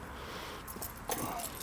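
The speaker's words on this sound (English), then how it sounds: "a set of keys for different cars and buildings" A set of keys for cars and buildings from a police officer's duty gear jingles in two brief faint bursts, close by, against a quiet background.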